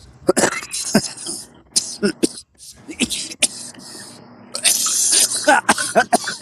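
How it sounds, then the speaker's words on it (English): Several harsh, close coughs in uneven bursts, separated by short pauses and some breathy throat noise. "keep coughing"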